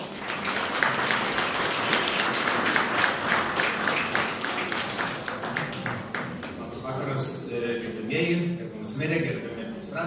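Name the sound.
audience applause at business awards ceremony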